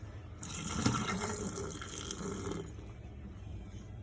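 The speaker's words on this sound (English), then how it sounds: "A little bit too much water, so I'm going to dump that out of there." Excess water from boiled potatoes is poured out of a pot into a kitchen sink, a steady splashing gush lasting a couple of seconds before tapering to light trickles, moderately close.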